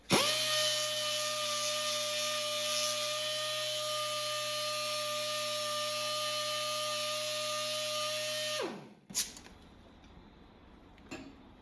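A dual-action polisher whirs steadily against stainless steel trim with a loud, even tonal drone for about nine seconds, then spins down and cuts off, leaving faint bumps and handling noises.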